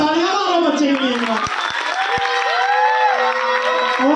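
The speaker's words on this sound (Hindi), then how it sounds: "तालियां मारो बच्चे के लिए" An audience claps and cheers for a child winner at a prize event, a dense continuous wash of applause and shouts with voices rising over it throughout.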